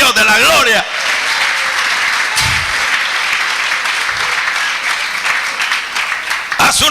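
Congregation in a church giving a sustained round of clapping, loud and dense, with a voice talking over it at the start and end.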